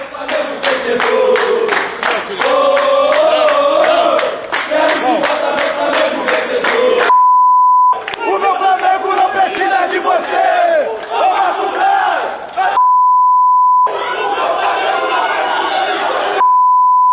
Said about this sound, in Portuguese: Muito xingamento pro Brás, né